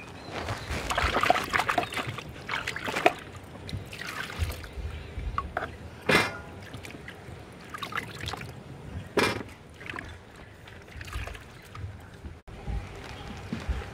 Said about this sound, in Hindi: टमाटर, आलू, प्याज ये सबको मैं धोकर रख लेती हूँ।